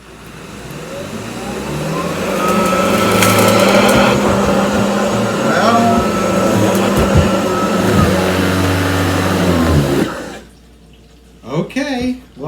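Hoover ONEPWR cordless vacuum on its low setting on a scatter rug, a steady close motor whir for about ten seconds that cuts off abruptly as it jams, followed by brief talking.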